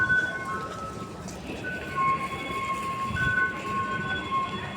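A train rolls steadily past with a continuous low rumble and rattle, thin squealing tones riding on top, steady in level and nearby, no talk.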